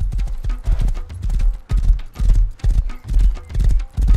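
Horse hooves clip-clop in a video game, a loud, close, rhythmic series of hollow clopping beats in repeating groups, like a horse trotting steadily along.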